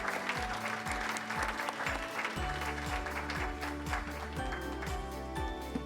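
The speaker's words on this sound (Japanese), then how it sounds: "皆様どうぞ大きな拍手でお迎えください" A conference audience gives a big round of applause to welcome panelists and a moderator onto the stage, dense clapping running throughout over loud, rhythmic background music with a pulsing bass line.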